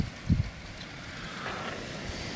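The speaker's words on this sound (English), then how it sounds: "Very, very windy." Wind buffets a microphone in a steady low rumble, with one brief louder gust near the start, no voices.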